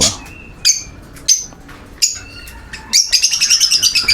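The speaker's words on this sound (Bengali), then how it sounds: "এই যে এখানে আমার এক জোড়া কাকাটেল পাখি দেখেন" A pair of pet cockatiels chirps loudly and close, sharp separate calls giving way to a rapid run of repeated chirps at the end.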